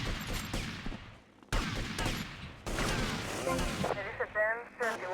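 Gunfire in GTA Vice City during a speedrun mission: loud bursts of shots and impacts crash in at intervals, mixed with game voices and chatter.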